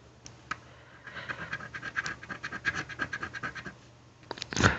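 A Year of the Monkey scratch-off lottery ticket with thick paint being scraped: close, rapid bursts of rough scratching strokes in an uneven rhythm, with quieter pauses between runs.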